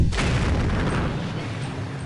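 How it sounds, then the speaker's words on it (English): Missile explosions in the video game Alien Shooter, one sharp blast at the start rolling into a loud, continuous rumbling wash of booms and crackle that fills the whole stretch with no voices. "While I'm invulnerable, check out what these missiles do."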